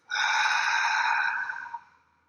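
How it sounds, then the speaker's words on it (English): A single deep, slow exhale through the mouth during a guided meditation breathing exercise, a close breathy rush lasting about two seconds that tapers off softly at the end. "release that with an exhale through the mouth"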